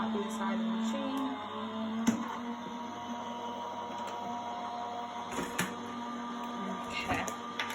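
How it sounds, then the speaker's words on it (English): An electric die-cutting machine hums steadily as a card for a Christmas poinsettia design feeds through its rollers, with faint clicks and knocks over the drone and a voice speaking at times. "So wait for that to come out the other side of the machine."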